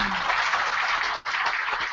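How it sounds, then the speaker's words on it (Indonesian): Audience at a national work meeting opening breaks into dense, steady applause, a continuous wash of clapping with a brief dip midway. "Boleh minta tepuk tangannya untuk ada semuanya?"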